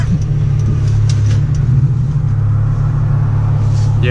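An E85-tuned 3.8-litre Genesis Coupe V6 with full bolt-ons drones steadily under throttle, a loud, close, even engine hum from inside the car.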